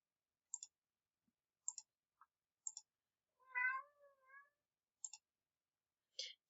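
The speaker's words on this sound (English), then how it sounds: "My cat's coming to join us here." A house cat gives one soft wavering meow amid sparse, faint, regular clicking taps in a quiet room, with no talk.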